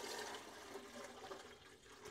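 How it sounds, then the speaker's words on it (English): Water pours steadily into a humidifier tank, a faint continuous splashing fill lasting a couple of seconds, with no talking. "fill it up with water."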